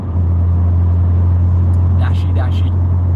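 A car engine drones heavily and steadily from inside the cabin while driving on a roundabout exit road, with a constant low hum and a couple of brief higher sounds near the end but no clear rise in revs.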